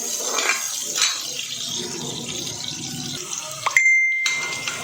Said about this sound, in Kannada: ಈರುಳ್ಳಿ ಹಾಕಿದ್ಮೇಲೆ ಸ್ವಲ್ಪ ಬ್ರೌನ್ ಬರೋ ತನಕ ಸ್ವಲ್ಪ ಹಸಿ ವಾಸನೆ ಹೋಗೋ ತನಕ ಈರುಳ್ಳಿನ ಫ್ರೈ ಮಾಡ್ತೀನಿ